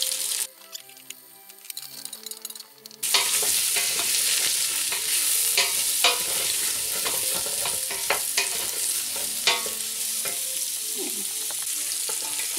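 Bacon and smoked sausages fry in a pan. A quiet clatter and stir give way to a loud, continuous sizzle with crackles and occasional stirring scrapes.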